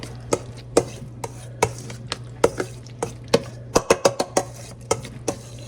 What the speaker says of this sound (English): You want to stir a little bit gently.